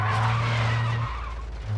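Car skidding in the video game Warzone 2.0 DMZ: a loud engine drone with a sustained tire skid that cuts off after about a second, then resumes briefly at the end.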